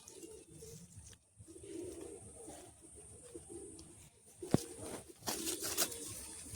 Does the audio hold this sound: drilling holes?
no